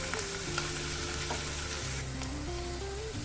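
Browned onions and nigella seeds frying in oil for a dish of taro stolons with shrimp, a loud, dense, continuous sizzle heard up close, with steady hum running underneath and no talking.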